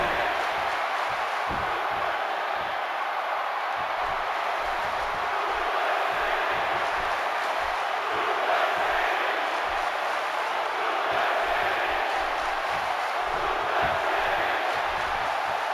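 Arena crowd at a WWE 2K18 wrestling match keeps up a steady, dense roar of cheering and chanting for the full stretch, with no clear talk on top.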